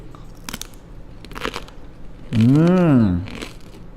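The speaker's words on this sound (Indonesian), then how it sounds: "Bisa dengarkan kriuk-kriuknya nggak kira-kira di speakernya ya." Honey-flavoured sweet potato chips crunch in a few close, crisp bites, with a voice heard briefly in between.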